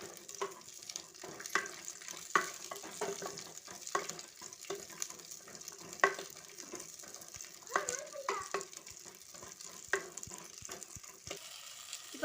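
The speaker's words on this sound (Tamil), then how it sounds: "சின்ன வெங்காயம் தக்காளி வதக்கி எடுத்துக்கலாம்." Shallots and tomatoes sauté in sesame oil with a steady close sizzle, broken by frequent scraping and clacking stirs from a spoon in the pan, continuing without pause.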